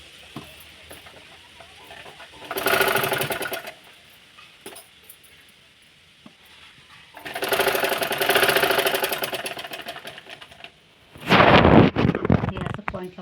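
A home sewing machine stitches old saree fabric into a dress: three bursts of rapid mechanical whirring, close and loud, separated by quiet pauses with faint handling sounds.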